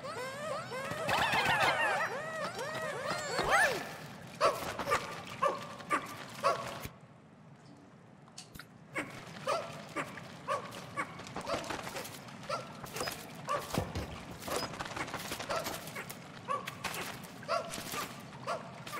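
A puppy in the Pikmin 4 video game yaps and barks in repeated bursts with creaky mechanical game sounds, a quiet pause midway, then more barking.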